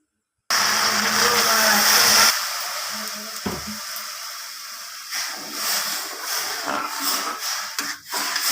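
Fried lentils in a pan being rinsed with water for khichuri, a loud watery sloshing and swirling at first, then softer trickling and splashing with scattered stirring sounds.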